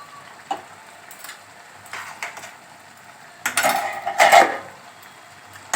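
A spoon scrapes and clinks against a pan while chicken keema with ghee and garam masala is stirred, with scattered quiet metallic taps building to a louder burst of scraping near the end.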